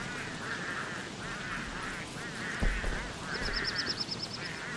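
Pengulls in the video game Don't Starve give repeated honking squawks in rhythmic bursts, moderately loud, with a faster chattering call joining near the end and a thud partway through.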